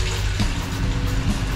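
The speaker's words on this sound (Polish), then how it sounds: "leci woda" Tap water runs continuously in a camper van's freshly installed plumbing, a steady loud rushing flow with a low pump-like hum beneath, no talk over it.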